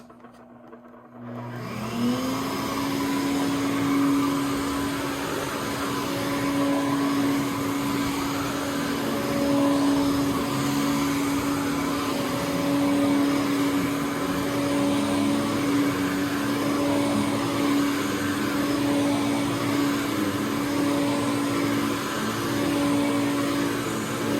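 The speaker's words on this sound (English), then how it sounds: "So I'm going to do a quick run on this machine." A Bissell Lift Off upright vacuum cleaner switches on and runs steadily with a loud, constant motor whine and whoosh of airflow, close by, with no talking.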